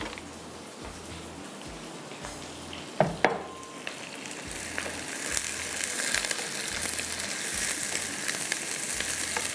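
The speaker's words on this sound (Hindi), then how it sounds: "प्याज को जब आप फ्राई कर रहे हैं" Onions sizzle and fry in a hot pan, a steady crackling hiss that grows denser and louder over time, broken by a couple of sharp clatters near the start.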